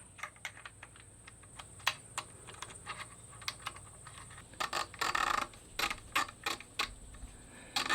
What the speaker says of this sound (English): Taking the screw out, pulling it off, just repositioning to 0.